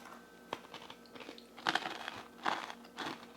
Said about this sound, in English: These are so crunchy and awesome, you guys.